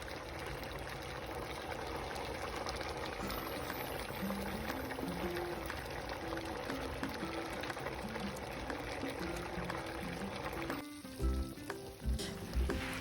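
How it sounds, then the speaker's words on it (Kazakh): Horse meat for kuyrdak fries and stews in its own fat in a pan, making a steady, close sizzle throughout with a few stirring clinks near the end and no talk. "Енді осының үстінен туралып жуылған дайын етімізді салып, жақсылап бұқтырып қуырып аламыз"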